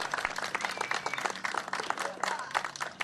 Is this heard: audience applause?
yes